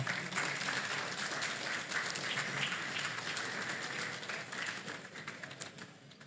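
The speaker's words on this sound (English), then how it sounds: "please, a round of applause for the Yappi Students Meetup" A room of people at a students' meetup with animation professionals gives a round of applause, heard as a fairly faint but continuous patter of clapping that thins slightly toward the end.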